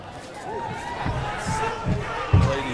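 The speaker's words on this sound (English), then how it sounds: "Sounds like these ladies have some fans tonight" A crowd cheering and shouting for women fighters at a kickboxing event, a steady murmur of voices in a large hall with rising whoops and several heavy thuds, one louder near the end.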